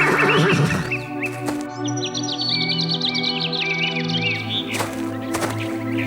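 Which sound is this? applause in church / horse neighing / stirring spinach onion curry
horse neighing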